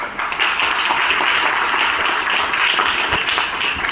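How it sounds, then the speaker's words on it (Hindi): Audience applause at an income plan presentation, steady loud clapping from a crowd lasting a few seconds. "और सबसे ज्यादा तालियां जो आज होनी चाहिए मेरे बड़े भाई महेंद्र जी के लिए"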